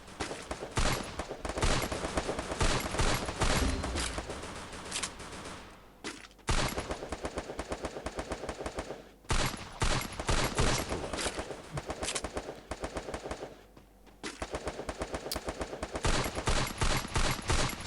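Dense, continuous bursts of automatic gunfire in the Free Fire battle royale game, loud and rapid, with short pauses between volleys.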